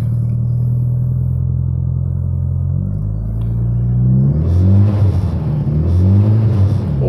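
A deep, rumbling 1998 Mitsubishi Lancer Evolution V 2.0 turbo engine idles and then revs up hard with a throaty, aggressive growl, loud and close.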